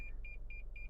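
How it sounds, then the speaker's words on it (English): Toyota RAV4 TRD Off-Road sounding its warning chime in snow: three evenly spaced pairs of short electronic beeps over a low, steady engine and road rumble, no talk. "now it's time for the RAV4 and all of its beeping to assault me"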